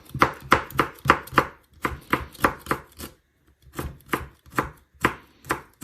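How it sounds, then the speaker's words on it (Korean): Knife finely julienning cucumber peel on a cutting board, rapid rhythmic chopping taps in two bursts separated by a short pause, crisp and close. "오이를 이렇게 이제 하셔가지고 곱게 채쓰세요"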